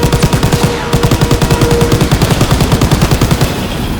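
Machine gun fire in the Call of Duty WW2 video game: rapid, loud, evenly spaced automatic bursts hammering continuously through the whole stretch, close and dominant with no voices over it.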